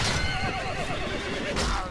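A horse in the Mount & Blade: Warband video game lets out a loud, drawn-out whinny with a trembling, wavering pitch, set against a dense background of battle noise.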